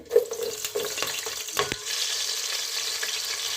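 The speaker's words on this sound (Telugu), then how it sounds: "నూనె పోసానండి చెక్క లవంగా వేస్తున్నానండి పచ్చిమిర్చి వేస్తున్నానండి" Cinnamon, cloves and green chilies sizzle and crackle in hot oil in a pan for coconut milk rice, a steady close frying hiss with a few clinks of stirring early on.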